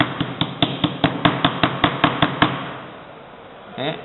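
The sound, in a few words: hammer tapping transformer I laminations level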